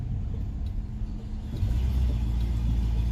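A pickup truck engine runs while driving, a steady low rumble with road noise from inside the cab, growing slightly louder and heavier partway through.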